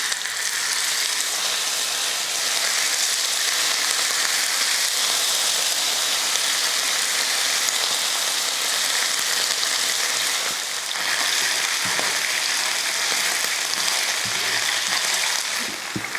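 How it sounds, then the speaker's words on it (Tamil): Chicken frying in hot oil in a pan for pepper chicken fried rice, a steady loud hiss and crackle that continues without break, close up, with no talking. "எண்ணெய் நல்லா காஞ்சிருச்சு. இப்போ சிக்கன் இதில் சேர்த்து வறுத்துக்கலாம்."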